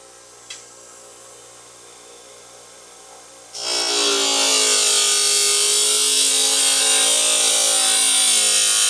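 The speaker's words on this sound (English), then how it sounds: "Sand them off. Don't want any sharp edges on there to hurt you." Golf wedge edges, Cleveland wedges, being sanded smooth: a loud, steady, bright abrasive hiss that starts abruptly and runs on continuously, close and alone.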